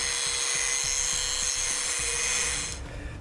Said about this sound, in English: So I'm just gonna take an angle grinder and grind this area right here nice and flat.